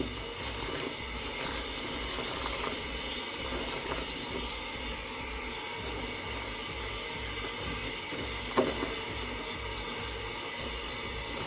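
Tap water running steadily while shampoo is rinsed out of an old, damaged wig, a continuous close splashing hiss with faint sloshing throughout and no talk.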